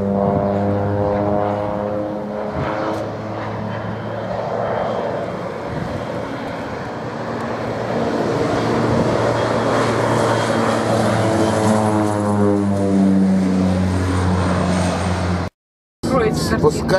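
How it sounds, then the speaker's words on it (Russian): An agricultural propeller crop-duster spreads fertilizer over kibbutz fields along the road to Arad, Israel. Its engine drones steadily and fairly close for the whole stretch, then cuts out abruptly near the end. "Самолет сельскохозяйственной авиации."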